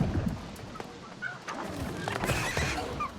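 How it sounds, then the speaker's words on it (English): A turkey gobbles in the video game New World, a few short bird calls rising out of steady outdoor ambience over about three seconds, moderately close and without talk. "And a turkey."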